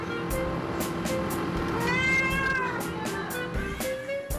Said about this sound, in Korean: 오, 이건 다른 고양이 소리.